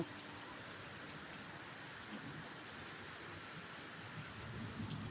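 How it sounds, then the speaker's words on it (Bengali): Gentle, constant patter of light rain with a faint airy wash of wind, steady and quiet throughout with no voices. "যে হালকা হালকা হাওয়া, সাথে বৃষ্টি।"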